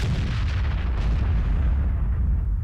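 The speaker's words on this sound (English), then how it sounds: "he fires a giant cannon and does nothing" Giant cannon firing in a video game, one heavy booming blast with a rumbling low tail that fills the whole short moment, loud and close with no voices.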